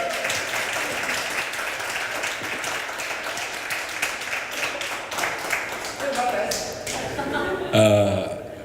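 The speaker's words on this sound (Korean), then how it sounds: "그 말씀에 박수 한번 치자." Audience applause at a Won Buddhist arts talk event in Korea, a steady wash of clapping across the room that continues throughout, with talk mixed in and a louder burst near the end.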